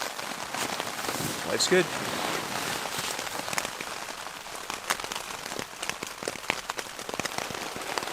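Rain patters steadily onto a camp on the icy shore of Lake Superior, close and continuous, with scattered heavier drops and someone briefly speaking over it.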